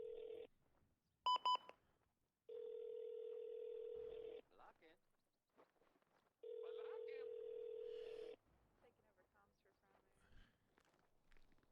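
A mobile phone call being placed: a quick burst of keypad dialing tones, then two long, steady ringback tones separated by a pause, with faint rustling and footsteps in between.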